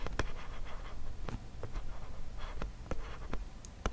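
Marker scratches on a whiteboard during a finance lesson, a run of short irregular strokes and taps close by with a faint room hiss underneath, no talking.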